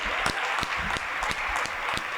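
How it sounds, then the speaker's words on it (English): A crowd at a mayor's community meeting applauds in a brief, steady burst of clapping, with a few louder, sharper claps standing out near the front. "Let's give our brother mayor another huge round of applause."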